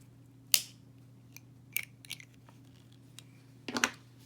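Scissors snipping crochet yarn up close, a few sharp quiet cuts spaced out over a few seconds with a faint steady hum behind, no talk.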